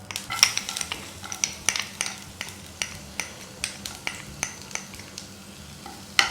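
Finely chopped garlic, ten to twelve cloves, sizzles in butter in a pan over low to medium flame, a steady close fry broken by repeated sharp clicks and scrapes of a utensil stirring, with no voices.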